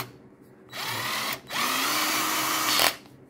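A Parkside PABS 20-Li E6 cordless 20V drill-driver set to drilling and screwing whirs up in two short runs, the second longer and steadier, with a brief pause between and quiet before and after.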